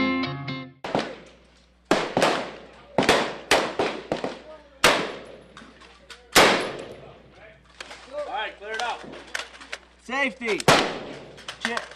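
Rifles fire at an Air Force basic training range, a series of loud sharp shots with echoing tails, some in quick pairs and others spaced several seconds apart, with distant voices between them.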